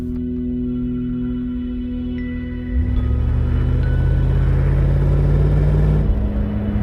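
Mercedes R107 SL engine idles with a steady low hum, then rises to a louder, deeper running rumble that holds steady to the end, with no voices.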